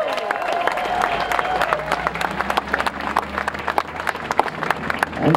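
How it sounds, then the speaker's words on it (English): Crowd applause at a coal exports protest rally, sustained clapping with scattered cheers and murmuring voices, fairly close and lively, swelling again at the end. "Let's give him a big, big applause."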